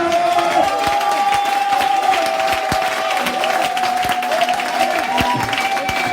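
Church congregation claps steadily for about six seconds, dense crisp hand claps forming a continuous wash with a sustained voice-like tone running underneath.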